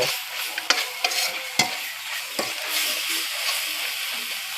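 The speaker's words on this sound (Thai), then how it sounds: "สไตล์การผัดก็แตกต่างกันไปนะครับ" Food stir-fried in a pan at a roadside stall, a steady bright sizzle with scattered sharp clicks of the utensil against the pan, fairly close with no voices.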